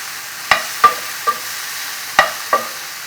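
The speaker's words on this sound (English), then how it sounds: "Keep stirring until onions are little translucent." Onions and green chili peppers being stir-fried in a pan: five sharp scraping clacks of a utensil against the pan at uneven intervals over a faint background sizzle, no voices.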